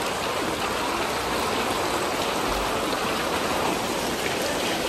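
Steady rain pours over an urban village in Xi'an, a dense, even hiss of drops hitting surfaces that holds unbroken and moderately loud throughout, with no voices.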